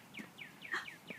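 A small bird outdoors gives a faint, rapid series of five or six descending chirps in an even rhythm, heard alone at a distance.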